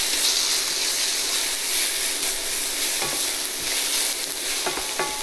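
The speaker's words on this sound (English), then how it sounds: "I'm going to add a tablespoon and a half of the ginger garlic paste. Let that fry for about 3 minutes or so." Ginger garlic paste frying in a pan for Kerala fish curry, a loud steady sizzle up close with a few soft stirring clinks near the end, no talking.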